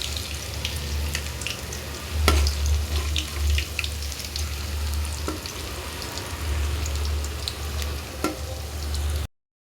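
Paneer kebab pieces sizzle steadily in a pan while being turned, the constant frying hiss punctuated by several sharp clicks and scrapes as the pieces are flipped, then the sound cuts off.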